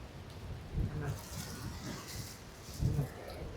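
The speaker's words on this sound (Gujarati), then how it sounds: "કેવો મસ્ત નજારો હે મિત્રો અહીંયા જો વરસાદ ચાલુ છે" Rain falls in a village setting with soft, steady noise, a couple of low rumbles of thunder rising and fading, and a gusting wind underneath.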